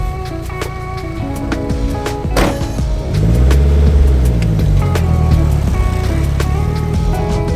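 A small Mazda mini truck drives along with a steady low engine hum that rises as it picks up speed, road and wind noise plus light rattles around it, close and loud without talk.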